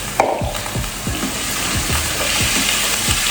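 Beef browning in a hot pan for a Filipino caldereta, seasoned with pepper, soy sauce and a touch of vinegar, sizzles in a steady close hiss while a utensil scrapes and stirs it in a regular rhythm, with no voices.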